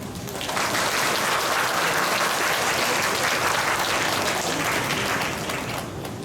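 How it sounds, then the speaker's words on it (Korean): A Lutheran church congregation at an outdoor joint service in Seoul claps together to welcome a pastor, a dense, even burst of applause that swells quickly, holds for several seconds and tapers off. "우리 나오실 때 박수로 환영해 주시기 바랍니다."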